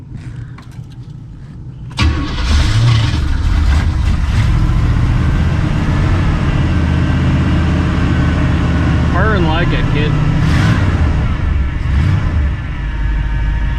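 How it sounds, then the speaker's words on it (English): A barn find race car being prepared for a revival race cranks and catches after a couple of seconds, then runs at a loud, steady idle with a few rises in revs while people talk nearby. "Let's see if it cranks over."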